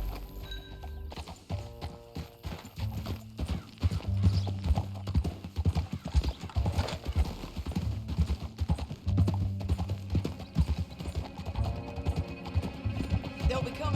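Horse hooves gallop in a steady, rapid clip-clop rhythm, loud and continuous, with other game sounds layered beneath, in Red Dead Redemption 2.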